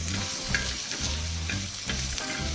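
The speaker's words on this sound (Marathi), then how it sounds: "आता मी याच्यामध्ये मीठ टाकलं आहे आणि आता उलटण्यानं आपल्याला परतून घ्यायचे आहे।" Green chili thecha stir-frying with a spatula in an iron pan, a steady loud sizzle broken by repeated scraping strokes of the spatula, close up with no voices.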